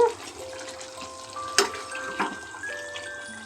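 Chicken frying in a pan gives a soft, steady crackle with brief scrapes and clatter, one sharp clink midway, and a faint voice in the background.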